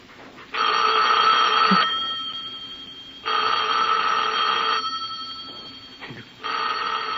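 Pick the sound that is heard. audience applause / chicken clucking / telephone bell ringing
telephone bell ringing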